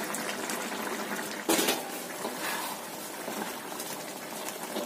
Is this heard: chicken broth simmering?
yes